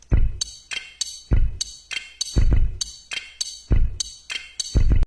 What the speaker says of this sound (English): Let's add a compressor and some reverb, and here's our drum kit.